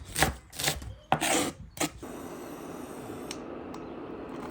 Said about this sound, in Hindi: और एक मीडियम साइज प्याज इस तरह से बारीक काट लेंगे